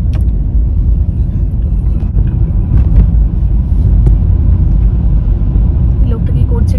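A Hyundai Exter car drives along a jungle road, its steady low engine and tire rumble loud and continuous throughout, with occasional small knocks from the road surface and no one speaking.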